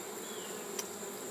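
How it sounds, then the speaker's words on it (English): Honeybees hum in a dense, continuous drone from an opened hive full of young bees, close and steady, with a brief louder buzz as one passes near and no talk. "There's a lot of young bees in here"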